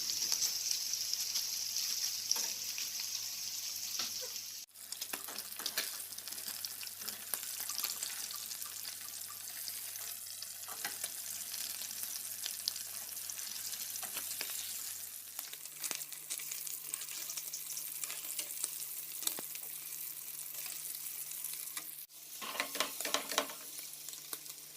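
Boiled beef tongue, rubbed with salt and thyme, fries in a pan in a Kenyan home kitchen. A steady, dense sizzle carries on without a break at close range, with brief clinks and stirring noises partway through.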